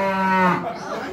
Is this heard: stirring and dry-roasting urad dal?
no